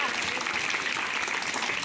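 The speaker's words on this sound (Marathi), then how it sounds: "टाळ्या वाजवा" Steady applause from a group during a fun game, dense clapping filling the whole moment without pause.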